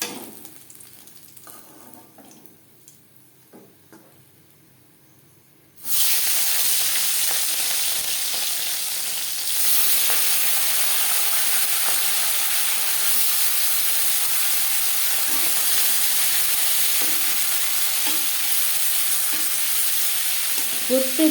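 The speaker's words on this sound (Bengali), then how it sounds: "মাছ আমি একটু কড়া করে ভাজলাম, যেহেতু ছোটো মাছ" Small tangra fish frying in oil in a pan, a loud steady sizzle and hiss starting abruptly after a quiet start, with occasional light stirring clinks.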